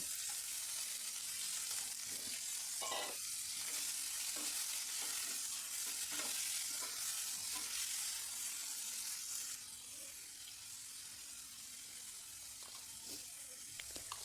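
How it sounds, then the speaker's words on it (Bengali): Chopped pumpkin frying in a wok of mustard oil with cumin and chopped green chilli gives a steady bright sizzle and hiss, broken by a few soft stirring scrapes, with no talk. "কড়াইতে সর্ষের তেলে জিরে কাঁচা লঙ্কা কুচি করে দিয়ে দিলাম আর দিলাম কুচি কুচি করে রাখা মিষ্টি কুমড়ো"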